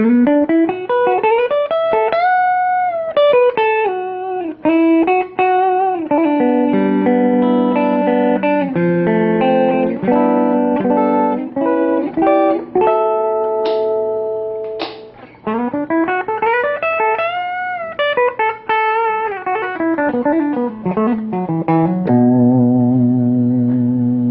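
An Ibanez AS73 semi-hollow electric guitar plays flowing melodic runs and chords on a clean tone, bright and close, with no distortion and no voices.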